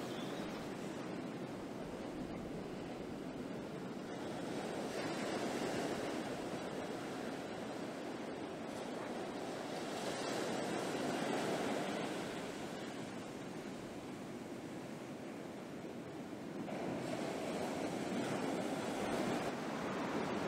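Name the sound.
ocean waves breaking on the Morbihan coast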